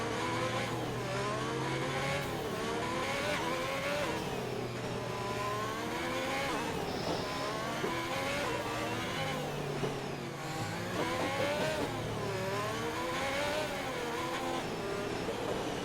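Formula 1 cars in a racing video game at Hungary roar and whine through gear changes during a safety car lap, several engines overlapping in a constant rising and falling mechanical howl.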